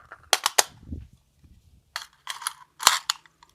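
Rifle shots from a Uintah Precision UPR15 chambered in 224 Valkyrie, fired at a range with a hot barrel: a quick cluster of three sharp cracks, then a pause and several more loud reports, each short and punchy.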